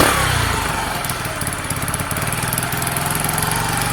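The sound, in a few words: Sinnis SC125 scooter engine revving itself up at idle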